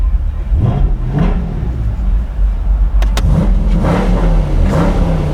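A car engine revs up loudly a few times, pitch rising and falling over a steady low rumble, close by.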